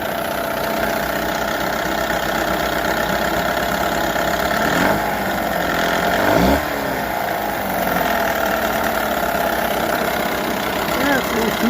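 A 1978 Johnson 6 hp two-cylinder outboard motor idles steadily and loudly nearby with a shaky, uneven running tone that holds throughout the clip.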